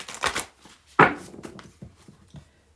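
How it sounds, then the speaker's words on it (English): A deck of cards being shuffled by hand, a quick papery riffle followed by a few soft taps and shuffles, close and fairly quiet with no talking. "Let me get another shuffle."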